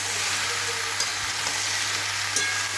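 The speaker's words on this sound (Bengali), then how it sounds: "সবজিগুলো ভালো করে ভাজা হবে।" Mixed vegetables fry in hot oil in a pan before salt and turmeric are added, giving a continuous close crackling sizzle with faint stirring scrapes and no voices.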